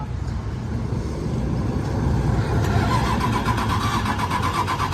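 A large work vehicle for hauling excavators cranks over and its engine catches. The rumble builds from a low churn into a steadier, louder running note up close over a few seconds.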